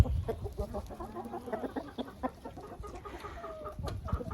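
Several hens cluck softly and murmur close by as they peck at small pieces of crumbled food, with steady, overlapping low clucks and an occasional longer drawn-out call.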